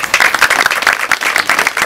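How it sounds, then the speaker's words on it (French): Guests at the inauguration of a women's shelter applaud two representatives, producing dense, lively clapping from a crowd, loud and continuous throughout. "je voudrais qu'on les applaudisse"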